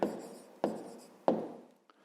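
Handwriting with a pen on paper, writing out a number in a maths exercise. Three close, scratchy strokes come at regular intervals, each fading quickly, followed by a faint final tap.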